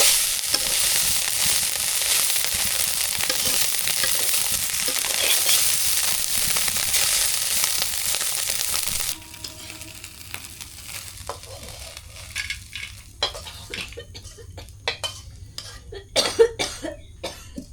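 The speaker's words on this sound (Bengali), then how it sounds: "মাছগুলো সবটি ভাজি করলো" Fish fry in a pan with a bright, continuous sizzle, which then drops to quieter crackling broken by stirring scrapes and clicks; no one speaks.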